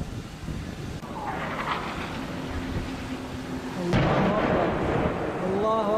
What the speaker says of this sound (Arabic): درعا بلتم عربة قصف عنيف على البلدة